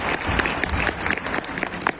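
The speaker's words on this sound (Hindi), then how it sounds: "अपने तालियां बजा देते हैं" An audience claps through a congratulations segment at an evening IT class session, the applause dense and steady at moderate loudness for a couple of seconds.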